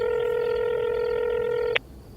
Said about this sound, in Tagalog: Kita mo yung tumatawag sa cellphone ko, ha?